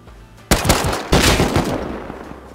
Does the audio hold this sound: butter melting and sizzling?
no